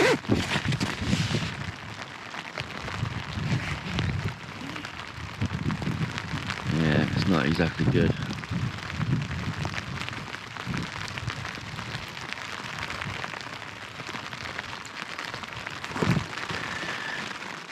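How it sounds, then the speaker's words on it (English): Heavy rain drums steadily on a tent at a campsite in Keswick, a dense hiss with soft patters, while a person speaks briefly over it. "it's pouring down with rain"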